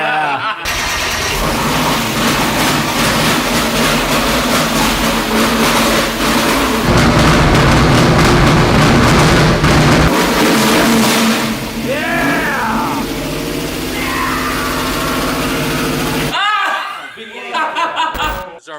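An LS-swapped merch van with an aluminum-block LS6 engine runs and revs loudly inside the cabin, a steady heavy drone rising at times, with people talking and laughing over it.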